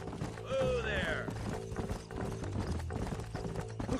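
Horses' hooves clop in Red Dead Redemption, a steady rhythmic clatter under game music with a brief whinny and talk from characters over it.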